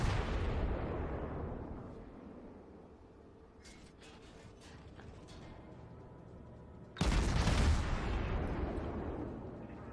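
German cruiser Nürnberg's guns firing HE shells in World of Warships, a heavy booming salvo that rolls away into faint mechanical clanks, followed by a second loud, deep blast.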